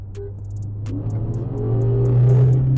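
A 770 hp Nissan GT-R R35 and a 500 hp Dodge Challenger Scat Pack launch from a race start, engine rumble rising steadily as they accelerate, with faint clicks and no voices.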